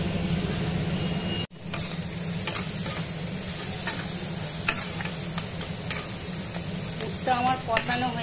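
Meat stuffing for stuffed pointed gourd fries and crackles in a pan, with a steady close sizzle and repeated scraping strokes of a spatula, a brief dip near the start, and clattering taps toward the end.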